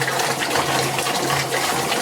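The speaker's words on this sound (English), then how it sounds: "Now we're going to empty the water" Water emptied from a filter tank into a bucket, a loud, steady pouring gush close by that continues for the whole stretch.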